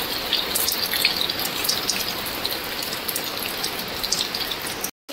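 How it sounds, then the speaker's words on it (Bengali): Rainwater falling beneath a kitchen during a downpour, a steady close wash of drips and splashing with a brief dropout near the end. "রান্নাঘরের নিচটাতে কতটা জল পড়ছে দেখুন।"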